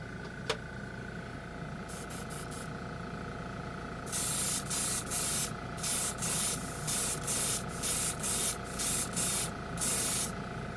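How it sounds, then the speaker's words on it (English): Airbrush spraying chrome paint, with a steady low compressor hum underneath and a run of short, loud, evenly spaced hissing bursts in the second half, no talking. "Oh, the compressor came on."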